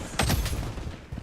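Rapid gunfire bursts in the shooter video game Blood Strike, loud and close, with a couple of quick cracks followed by a rumbling tail and a faint later shot.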